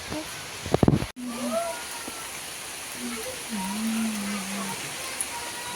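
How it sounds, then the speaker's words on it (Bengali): Heavy rain falls as an even, continuous hiss with a brief louder clatter near the start, while a voice murmurs faintly underneath. "বৃষ্টিটা অনেকটাই জোরে এসেছে"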